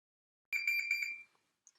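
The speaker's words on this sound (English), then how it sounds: "so our timer is done" A kitchen timer goes off as bread finishes baking, a single sharp electronic alarm with a rapid pulsing ring lasting under a second, close and clear against silence.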